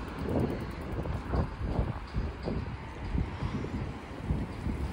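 Strong, cold wind buffets the microphone outdoors on a walk to a birthday party, with continuous low rumbling gusts that rise and fall, close and fairly loud, with no talking.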